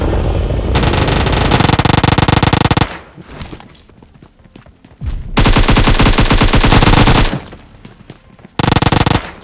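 PUBG Mobile gunfire knocks down a bot, with long loud bursts of rapid automatic shots broken by short quieter gaps.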